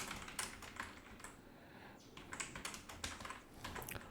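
Keys clack on a computer keyboard as watermark text is typed into a Google Sheets document, a close, irregular run of light taps with a brief pause midway.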